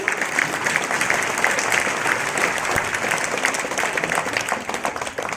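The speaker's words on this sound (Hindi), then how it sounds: "आप बजाओ ताली।" Dense, steady clapping from a large crowd at a peaceful protest at Shaheen Bagh, loud and sustained throughout, with no pause in the continuous wash of hands.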